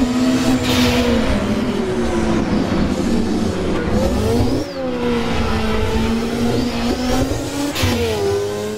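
A tin-top touring race car in the Assetto Corsa racing game roars loudly and continuously, engine pitch rising and falling through gear changes, with a brief dip mid-way and faint tire squeal.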